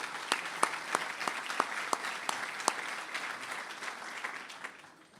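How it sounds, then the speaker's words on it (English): Applause for the Attorney General at the MRLC 2013 gathering comes as steady clapping from a crowd, with a few sharp nearby claps standing out before the sound fades toward the end. "let's give the Attorney General a big round of applause as well"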